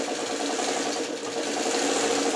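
A sewing machine runs continuously while stitching short seams of half-square triangles for a quilt block, a steady close whirring drone with no pauses or talk.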